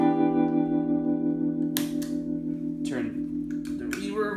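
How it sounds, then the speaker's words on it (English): A sustained guitar chord pulses with a lush, wavering tremolo from a Milkman tremolo pedal, with a few string scrapes and new strums cutting in. "just so you guys can hear the tremolo on the Milkman"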